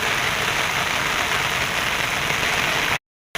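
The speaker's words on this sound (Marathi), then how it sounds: "एवढा पाऊस येतोय ना, तर सगळीकडे अंधार झालेला आहे." Heavy rain falls in a steady, dense broadband wash that stays loud and unbroken for about three seconds, then cuts off abruptly into silence.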